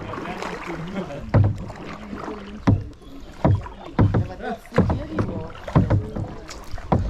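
A kayak is paddled through the Spreewald waterways in Germany: regular paddle strokes splash at close range about once a second, over light wind noise and faint voices.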